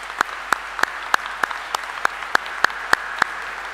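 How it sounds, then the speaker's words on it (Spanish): An audience at an academic conference claps in unison, a steady rhythmic beat of sharp claps about three per second over light background noise. "a cual le pido un generoso aplauso"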